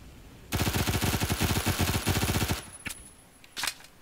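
Rapid automatic gunfire in the video game ReBlIx, a loud sustained burst of about two seconds with evenly spaced shots, followed by a couple of isolated single shots after a brief pause.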